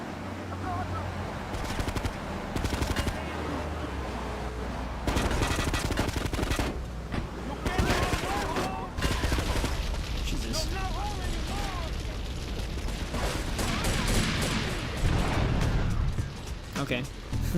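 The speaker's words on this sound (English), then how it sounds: "Actually, I guess we're doing drive-by on him, but we also have enough Uzi bullets already." Uzi fire from a drive-by in Grand Theft Auto 3, rapid bursts of automatic gunfire crackling across a busy game soundscape, with a voice talking over much of it.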